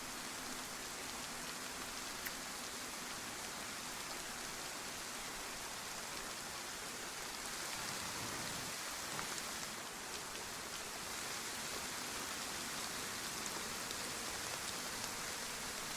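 Rain falling in the survival game DayZ, a steady, dense hiss of downpour that stays constant throughout with nothing else standing out.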